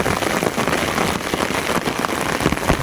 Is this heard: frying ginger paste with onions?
no